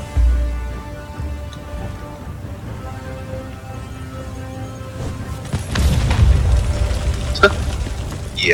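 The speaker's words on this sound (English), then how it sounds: "You might hear an explosion." A deep explosion in the game Conan Exiles booms at the start, followed by rumbling debris and a second heavy blast with crackling, like game sound effects.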